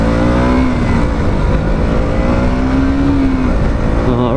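KTM Duke 200 motorcycle accelerating hard, a loud, close engine drone whose pitch climbs steadily, dips at a gear change, then rises again throughout, with no voices.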